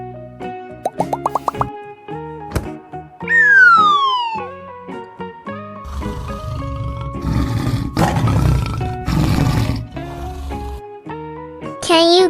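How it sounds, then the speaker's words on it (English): A lion's roar in a children's animal-sounds lesson, heard as loud, rough bursts mixed in among bright cartoon plops, rising and falling whistle tones and playful musical effects. "Lion."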